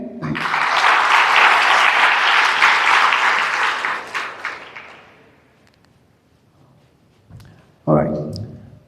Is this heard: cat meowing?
no